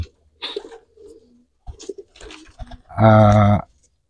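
Pigeons coo close by, with soft scattered calls first and then one loud, resonant, drawn-out coo near the end against a quiet background.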